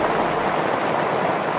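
Steady rain falls on a house with a leaking roof, a dense, continuous close hiss with no pauses and no voices.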